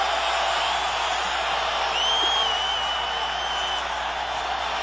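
Stadium crowd at a 1984 Rams at 49ers football game, a steady, dense roar of thousands of fans holding at constant loudness, with a faint whistle rising above it midway.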